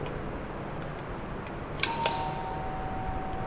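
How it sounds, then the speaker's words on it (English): An apartment doorbell in Bangkok gives a quiet two-tone electronic chime whose ringing tones linger and fade over soft room hiss, with no talking. "doorbell."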